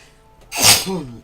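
One loud, sharp sneeze close to the microphone, a quick inhale followed by an explosive burst that trails off into a short voiced tail.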